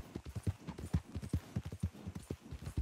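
A horse's hooves clip-clop at a brisk, even gait in the Red Dead Redemption 2 video game, close and fairly loud, a rapid run of sharp thuds with no talk over them.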